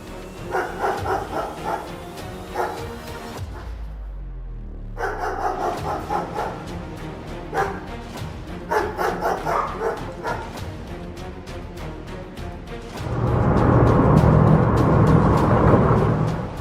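A guard dog barks repeatedly at a robber on home security footage, sharp barks in bursts with a short lull, followed by a long loud stretch of continuous rushing noise near the end.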